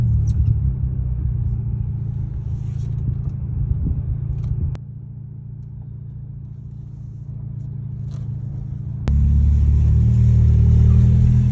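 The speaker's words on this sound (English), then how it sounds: "we are going to go for a drive and see what happens" A VW Golf GTI Mk5 pulls away, its engine rumbling low and close, settling briefly, then swelling louder as it gets moving.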